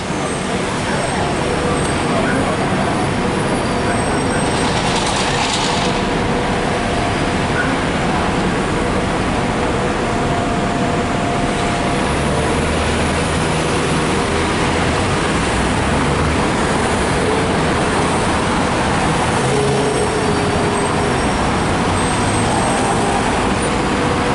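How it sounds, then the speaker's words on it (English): Steady, loud traffic roar from a city bus moving through downtown Houston streets, with continuous engine and road noise throughout and a brief hiss midway; voices may be faintly present under the din. "This is one of the shorter buses, but it's one of the really long buses down that way."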